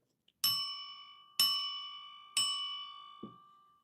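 A ringing quiz bell marks the end of answering time in an online primary school English exam practice session. Three clear, evenly spaced strikes ring out with long sustained tones, followed by a faint softer knock, with no talk.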